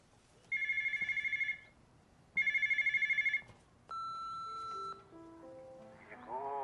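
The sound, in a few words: phone ringing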